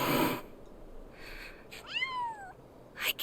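A cat meowing in a Final Fantasy 7 Rebirth cutscene: one clear, drawn-out mew rising then falling, fairly close, with quiet game ambience and brief noises before and after.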